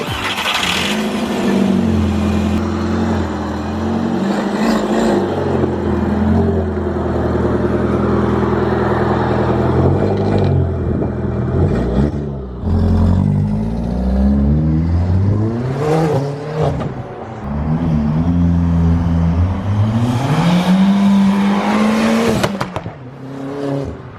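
A bagged Mk4 car's engine starts and revs after its MAF sensor was cleaned, loud and close, with several rising and falling revs and brief dips between them.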